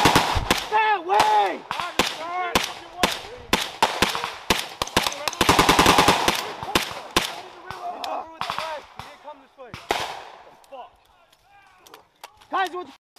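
Sustained machine gun fire during a US Army 21st Infantry Regiment and Indonesian army infantry exercise, loud close rapid bursts and single shots crackling repeatedly, with shouted voices mixed in.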